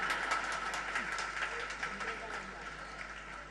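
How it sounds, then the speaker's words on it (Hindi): An audience at a religious discourse claps in a quick patter of many hands, fairly faint and fading slightly toward the end. "ताली क्यों बजा दी?"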